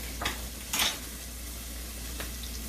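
Chopped garlic for Caribbean mustard greens sizzles in a hot pan, a close, steady hiss with two brief louder bursts of crackle early on as it is stirred.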